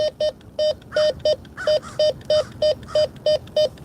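A Bounty Hunter Tracker IV metal detector gives a rapid series of short, identical beeping tones in a quick regular rhythm, a dozen or so pulses over faint background noise.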